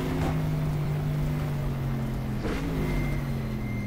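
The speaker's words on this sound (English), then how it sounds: "just cars gearing down is a sound that's so underrated" Race cars in the GTR2 racing game on the 1970s Sebring circuit, a Corvette C3 among them, drone steadily close by with an engine note that dips and shifts around the middle as gears drop.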